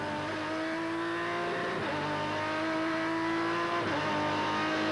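Onboard engine of a Ferrari GT race car in the 2001 FIA GT championship, a loud steady high-revving howl with two brief dips as it shifts gears, continuous and close throughout.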